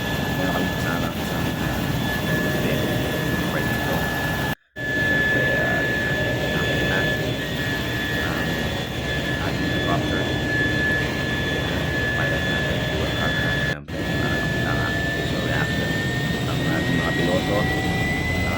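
A four-seat helicopter's engine and rotor drone steadily and loudly throughout boarding and takeoff in Osaka, Japan, with a sustained high whine on top, two brief dropouts and talk underneath.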